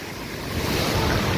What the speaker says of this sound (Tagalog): grabe yung bugso ng tubig dun sa taas